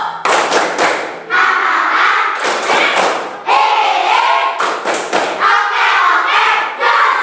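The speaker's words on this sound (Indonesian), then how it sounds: "Sekarang tepuk semangat baru" A fifth-grade class at an Islamic primary school does rhythmic spirit clapping, loud bursts of thumping claps in patterned sets broken by short pauses, with children shouting and chanting along between and over the beats.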